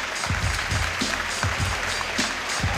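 Crowd applause for two fighters after a combat-sports bout, a steady wash of clapping from a fight audience with a few sharper nearby claps standing out over it.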